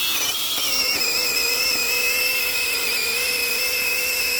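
A small DeWalt 20V-compatible mini chainsaw cutting through a tree trunk, giving a loud, steady high-pitched motor whine that holds unbroken close to the microphone.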